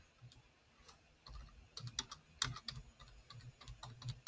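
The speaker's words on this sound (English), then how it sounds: "as soon as I typed good morning" Quiet clicking on a computer keyboard, a few sparse taps at first and then a quicker, denser burst of keystrokes, close and soft with no talk.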